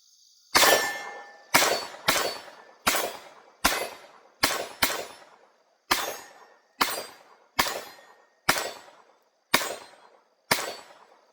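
Taurus TX22 Compact .22 pistol firing Wildcat ammunition outdoors: twelve sharp, loud reports in a steady, unhurried cadence, each shot ringing with a metallic clang and a short decaying tail, no talking.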